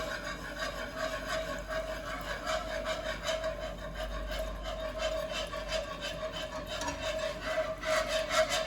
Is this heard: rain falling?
no